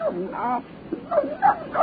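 Dog on an old radio drama giving several short yips and whimpering barks in uneven bursts, close and fairly loud, mixed with voiced sounds.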